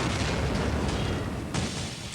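Explosions in the Battlefield 1942 Desert Combat mod, a dense, loud wash of booming blasts and rumble that sounds continuously, with a fresh burst partway through.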